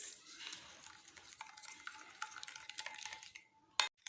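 Spoon stirring and scraping through chana chaat in a bowl, a run of soft scrapes and light clinks close by, ending in a sharper knock against the dish.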